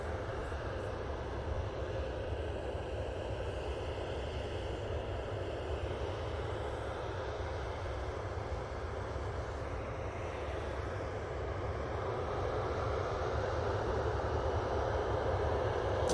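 A Ryanair airliner at Manchester Airport gives a steady, distant jet roar that holds faint and even throughout, swelling slightly near the end.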